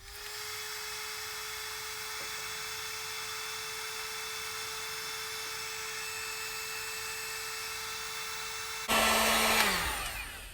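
A heat gun runs as a steady, close, high-pitched electric whine while heating wiring during an electric fuel pump install on a 1953 Chevy truck, then a brief louder rushing burst as the pitch falls and it winds down.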